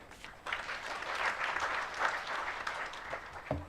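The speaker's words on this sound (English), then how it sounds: "Let's clap for Rono once more" An audience at a pension scheme annual general meeting applauds after the auditor's report, a sustained round of many hands clapping, fairly distant and soft, fading out at the end.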